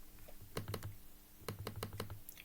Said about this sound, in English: I'm literally typing.